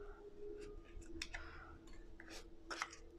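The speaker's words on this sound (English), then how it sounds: "I'm going to cut here up to my score line and cut it away at an angle" Scissors cut through cardstock up to a score line, giving a few faint, close snips and crisp paper rustles in a quiet room.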